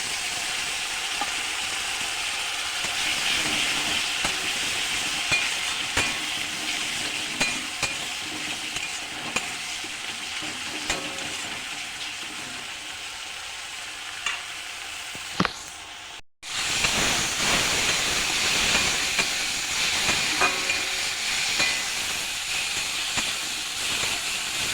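Tamarind water poured into a hot pan of frying food hisses and steams, a sustained loud sizzle with stirring scrapes, briefly cut off midway before resuming just as strong.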